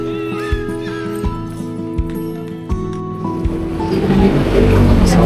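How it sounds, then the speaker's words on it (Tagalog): Outdoors in Intramuros, a horse trots past with brief hoof knocks amid music with steady tones, followed by a rising rush of wind or traffic noise. "may nakita kaming kabayo."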